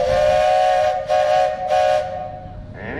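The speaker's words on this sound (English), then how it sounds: "next one, we got a whistle" Steam engine whistle at a threshers show, sounding in three loud sustained blasts with brief dips between, then fading as another fainter tone enters near the end.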